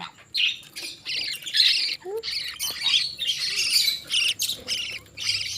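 Budgerigars at their nest, a father bird with chicks, giving repeated harsh squawks and chirps in overlapping bursts, close and fairly loud, with a faint voice underneath.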